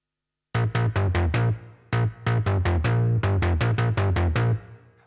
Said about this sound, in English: The sound is actually analog FM using the Polybrute.